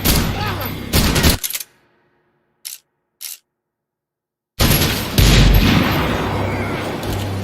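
Gunfire in the video game Max Payne 3, sharp loud bursts opening the clip, then brief isolated shots after a silent gap, and a dense sustained volley at the end.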